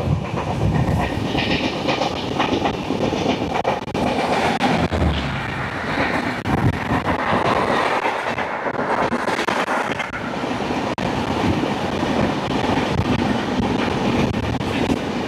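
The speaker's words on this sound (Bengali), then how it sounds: "এই যে ট্রেনটা আসছে না, এটা আসছে ওড়িশার খোর্ধা রোড জংশন থেকে" A special passenger train from Khordha Road Junction in Odisha, bound for Mumbai, rumbles past close by, with loud steady wheel noise and clickety-clack over the rails throughout, no talk.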